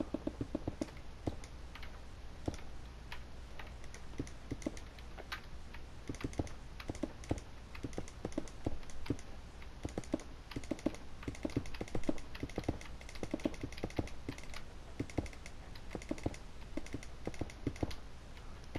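Keyboard and mouse are clicked continuously while building a map in Minecraft. Quick, irregular tapping and clicking carries on steadily for almost twenty seconds over a low background hum.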